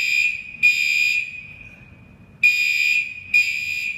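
A fire alarm sounds indoors in repeated high-pitched electronic bursts, each about half a second to a second long, separated by short gaps with a faint tone lingering between them, fairly loud and with no talk.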